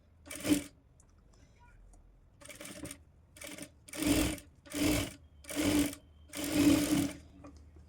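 Domestic sewing machine stitching a blouse in a series of short bursts, about seven quick whirring runs of increasing length separated by silent gaps, close and clear.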